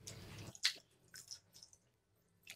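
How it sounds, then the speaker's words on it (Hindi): Poha (flattened rice) is washed in water, giving soft wet squishing and dripping sounds, a splashy burst at first then quieter intermittent squelches, close by. "दो बार हम धो लेंगे पानी से इसे।"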